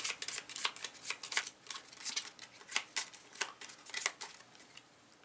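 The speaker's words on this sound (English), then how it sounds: "let's shuffle the cards and finish this last round" A deck of cards is shuffled in quick, crisp riffling bursts, a rapid string of close, faint flutters and snaps with no talking.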